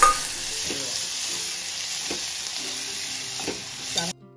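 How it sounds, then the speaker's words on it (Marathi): Chopped onion with masala sautés in hot oil, a steady close sizzle with a few scraping stirs of the spoon against the pan before it cuts off abruptly. "हा एक मोठा चिरलेला कांदा आपण चांगला तेलावरती परतून घेऊया"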